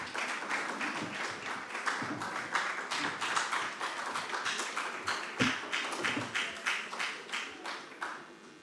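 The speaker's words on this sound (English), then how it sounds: "Let's welcome them with a round of applause." Audience applause at a National Investment Quiz quarter-final welcoming the St. Louis Senior High School team, a steady patter of many hands clapping at moderate distance, fairly soft and continuous, tapering off at the close.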